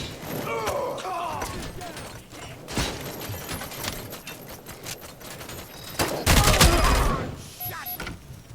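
Gunfire in the RoboCop: Rogue City video game: rapid bursts of shots and sharp metallic impacts, loud and close, with one heavy crashing blast late on, while voices speak in between.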